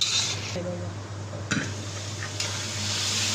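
Spice paste and tomatoes are sautéed in a pan before fish goes in, with a soft sizzle under a low hum and a couple of spoon-against-pan clinks.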